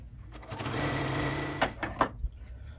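Sewing machine running steadily while stitching a scrappy string quilt block sewn quilt-as-you-go, a continuous close whir followed by a few short bursts near the end.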